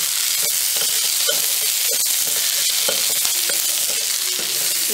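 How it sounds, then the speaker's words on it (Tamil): Boiled chickpeas for sundal fry in hot tempering oil, giving a loud, steady, close sizzle with scattered stirring clicks and crackles throughout. "இப்போ இந்த சுண்டல் 1 நிமிஷம் அடுப்பில் அப்படியே எண்ணெயில் இருக்கட்டும்"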